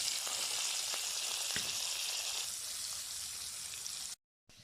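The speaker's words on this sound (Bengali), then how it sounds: "এই যে মূলা দেবো, এগুলোকে একটু ভেজে নেব" Radish pieces fry steadily in hot oil with turmeric powder, a close, continuous crackling sizzle with a few small pops and stirring scrapes, then a brief gap before it resumes.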